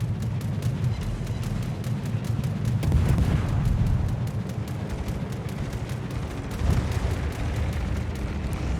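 Ship guns fire in the naval combat game World of Warships, a dense, continuous rumble of booming shots and blasts with heavier swells around three and seven seconds, no voice over it.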